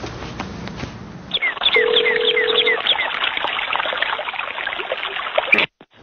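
A telephone call is placed: a steady dial tone sounds briefly, then a noisy, warbling ringback fills the line for several seconds before cutting off abruptly.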